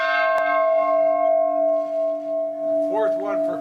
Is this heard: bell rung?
yes